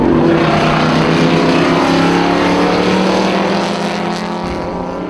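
Vintage race cars, among them a Porsche 718 RSK, thunder past in a loud, continuous engine roar that stays strong and fades slightly toward the end, with no voices.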